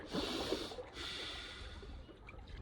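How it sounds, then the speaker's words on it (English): Close, soft breathing in and out through the nose: a small airy sniff followed by a gentle exhale, with no one talking. "you can take a little sip of breath by breathing in and out the nose like this"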